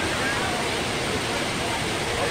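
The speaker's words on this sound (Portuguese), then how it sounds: "Olha a água levando aqui os carros." Floodwater surges during a cyclone, sweeping cars along in a steady, loud roar of rushing water that fills the whole stretch without pause.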